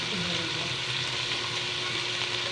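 Onion frying for Filipino sopas, a continuous close sizzle with light stirring, steady and even throughout, with no speech over it.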